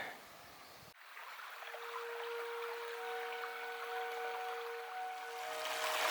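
Little Bay Creek flowing beneath railroad tracks, a steady, faint broadband wash of moving water with some tonal ringing, beginning after a brief shift in sound.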